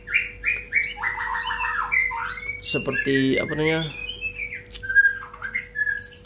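A white-rumped shama sings varied bright whistles and chirps nearby, with some richer warbled phrases in the middle and a person talking briefly underneath.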